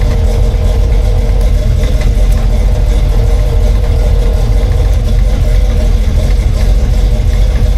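A 1934 Ford car engine idles after starting up, a loud, steady low rumble that stays even and continuous with no talk over it.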